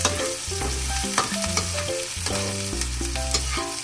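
Onion sautéed in a pan until brown for Bicol Express, a constant close sizzle of hot oil with scraping and clanking stirring strokes repeating steadily throughout.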